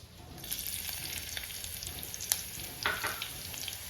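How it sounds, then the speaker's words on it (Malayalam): Thin slices of ginger frying in hot coconut oil, a soft, quiet sizzle with a few faint crackles and pops scattered through. "നമ്മുടെ എണ്ണ ചൂടായി വന്നിട്ടുണ്ട് അതിലേക്ക് ഒരു ചെറിയ കഷ്ണം ഇഞ്ചി കനം കുറച്ച് അരിഞ്ഞത് ഇത് ചേർത്ത് കൊടുക്കാം"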